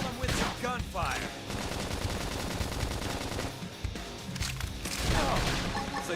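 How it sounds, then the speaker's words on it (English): Gunfire in the video game Xenoblade Chronicles X: rapid bursts of shots under music and battle effects, dense and continuous, with short voice calls mixed in. "Couple them with some gunfire!"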